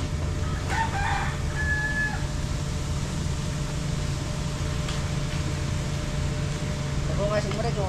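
A Texas fighting rooster crows a few times against a steady, loud background hum, with brief call-like bursts near the start and end.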